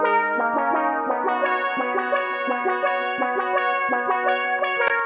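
A synthwave synth lead plays a bright stepping melody of sustained notes, one after another, clear and prominent with nothing else.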